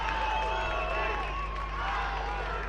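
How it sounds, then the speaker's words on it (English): A football stadium crowd in an Australia Cup match between Azzurri United and Macarthur murmurs and cheers as a steady mass in the distance, with a commentator talking over it throughout. "But that's got the crowd up and about"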